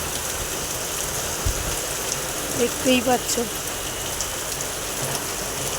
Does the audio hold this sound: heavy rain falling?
yes